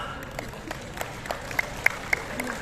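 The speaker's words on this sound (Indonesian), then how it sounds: "Kenapa tepuk tangannya nggak semangat tuh ditunjuk kepala sekolah?" Sparse, half-hearted clapping comes from a room of prospective school principals at a leadership session, a faint wash of applause with a few sharper individual claps near the end.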